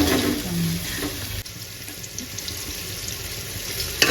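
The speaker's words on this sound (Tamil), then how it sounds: "இப்போ வெங்காயத்தையும் சேர்த்துக்கலாங்க. சேர்த்து நல்லா வதக்குவோங்க." Garlic and onions sauté in hot oil in a pan, a steady hissing sizzle that runs throughout at moderate level, with a brief stir or clatter near the start.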